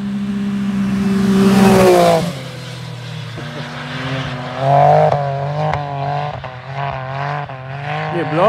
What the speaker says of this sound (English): Blow off valve on that thing.